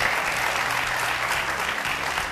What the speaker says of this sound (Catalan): Un aplaudiment, sisplau, del públic que avui ens acompanya des de Balaguer.